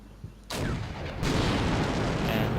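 Missile fire in Combat Mission: Shock Force 2, a sudden loud launch blast followed by a second roaring burst and sustained rushing noise, close and continuous.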